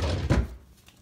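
A wooden drawer shoved shut, giving one dull, heavy thunk as it strikes before closing fully, close and fairly loud with a short rumble after.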